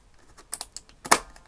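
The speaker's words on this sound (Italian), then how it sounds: "inseriamola fino a sentire un click" A film cartridge slides into a Polaroid Now instant camera, giving a few light plastic clicks and then one sharper, louder snap as it seats, close and alone with no voices.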